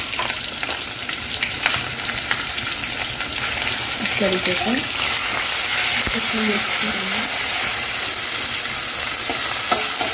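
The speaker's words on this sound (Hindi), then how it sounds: "जैसे ही अदरक लहसुन हमारा भूनने लगे उसकी स्मेल जाने तक के हमको भूनना है" Ginger, garlic and green chili paste frying with garam masala in a pot for a dhaba-style mutton handi curry, a steady close sizzle with stirring scrapes, someone speaking briefly over it.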